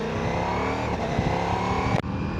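A loud, steady Ducati Multistrada V4 Rally engine drone at highway cruising speed, mixed with heavy wind rush that fills the whole stretch, with a brief dip near the end.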